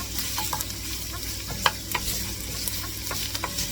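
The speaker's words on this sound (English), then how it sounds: "get this a little bit sauteed here until the onions are, looks like they're getting, translucent" Onions sauté in a pan for chicken and rice soup, a close, steady sizzle broken by scraping stirs and a few sharp spatula taps.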